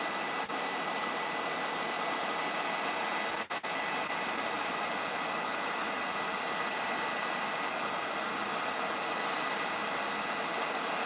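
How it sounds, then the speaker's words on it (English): A heat gun blows hot air during wood burning of a cutting board, a steady, even hiss that holds constant throughout with only a momentary dip, close and unaccompanied by speech. "The heat gun is just a little bit hotter"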